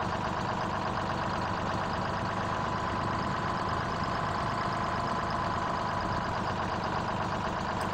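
A truck engine in Farming Simulator 17 tows a camper and trailer, giving a steady, loud, continuous mid-range drone that holds an even level throughout with no talking.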